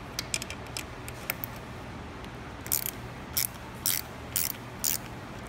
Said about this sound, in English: we do that with a half inch or 13 millimeter wrench here, which we can use to loosen the handlebar stem clamp.